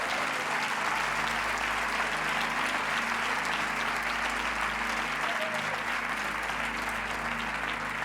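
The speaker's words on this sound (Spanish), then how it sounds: "Vamos a darle otro aplauso más al Señor." A church congregation applauds with a dense, sustained clapping that stays loud and steady throughout, with no break.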